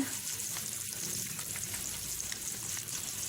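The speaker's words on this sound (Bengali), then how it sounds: "দিয়ে ভালো করে ভাজতে হবে" Hilsa fish roe frying in about a quarter cup of hot oil in a frying pan gives a quiet, steady sizzle with faint crackles scattered through it and no speech.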